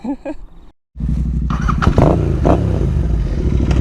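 Royal Enfield motorcycles, including an Interceptor and a Continental GT, rumble loudly and steadily while riding on the road, after a brief pause of near silence, with a scrape and some wind noise over the engine.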